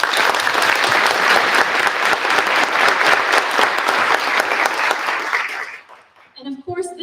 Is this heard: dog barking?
no